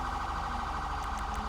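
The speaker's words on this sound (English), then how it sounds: "he's just running a siren." Police car siren in Grand Theft Auto V, a steady wailing tone running continuously at moderate volume over low vehicle rumble, with no voices.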